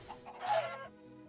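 Minecraft chickens on a Bedrock auto-cooking chicken farm give a single short cluck, close and clear, with no talk.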